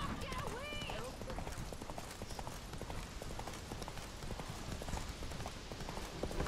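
Roach the horse gallops in The Witcher 3, with rapid rhythmic hoofbeats pounding steadily under loud speech and a brief whinny.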